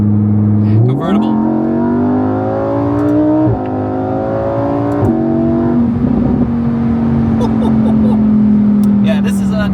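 A Lamborghini Huracan convertible's engine revs and climbs through several gear-like pitch steps while driving, loud and close, with a voice talking over it.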